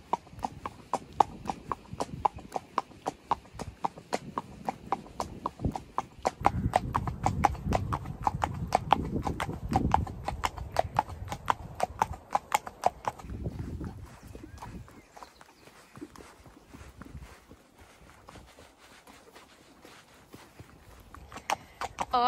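Hooves of a compact pony clip-clop steadily at a walk while being ridden out on a hack, close and clear, with a horse neigh possible and the rhythm fading quieter toward the end.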